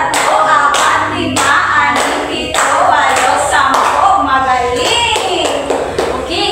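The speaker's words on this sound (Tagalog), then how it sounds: "Bigyan nyo ang iyong sarili class na 10 palakpak." A classroom of schoolchildren gives a round of ten claps, sharp percussive hits in a steady counted rhythm, alongside children's voices and a teacher talking.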